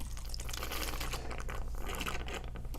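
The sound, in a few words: water running through the myograph chamber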